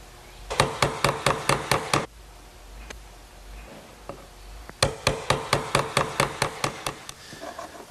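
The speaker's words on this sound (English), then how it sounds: "Now I'll just use a nice sharp chisel to square up the back corners." A sharp chisel squares the back corners of a wooden Shaker wall clock part, struck in two quick runs of crisp, evenly spaced knocks close by, separated by a short quiet pause.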